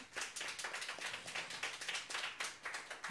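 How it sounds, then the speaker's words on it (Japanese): Rhythmic clapping from a small live-concert audience for a jazz band's featured singer, quiet and evenly paced, with no talk over it. "大きな拍手をお願いします。"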